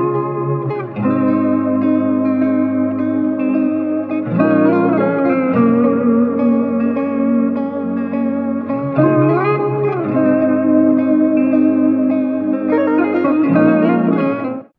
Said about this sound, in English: I'm going to play a static chord, I'm going to play a source chord